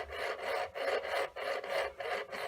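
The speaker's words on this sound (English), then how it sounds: "move the hacksaw back and forth like that, and you'll see it will cut the stone very quickly" A hacksaw cuts through stone held in a vise, giving five or six even rasping back-and-forth strokes close up, with no talking.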